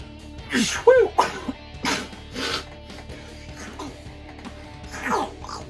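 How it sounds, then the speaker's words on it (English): A single close, abrupt sneeze bursts out near the start, followed by a few quieter breaths and small handling noises indoors. "I actually sneezed."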